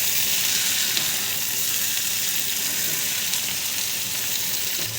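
Bitter gourd sizzles steadily in a frying pan, a close, constant bright crackle that holds without pause from start to finish.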